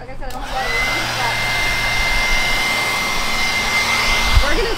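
A handheld leaf blower runs close by outdoors on a lawn, a loud, steady airy roar with a constant whine on top, holding level for several seconds with a brief fluctuation near the end.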